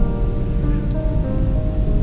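Steady broadband hiss of rain pattering against a room window, a dense continuous wash with a low rumble beneath and no voices.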